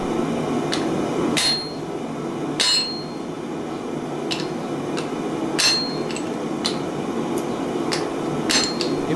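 Hammer striking while forge-welding soft wrought iron to 1075 steel, sharp metallic blows repeating at irregular intervals over a constant roaring background, close and loud.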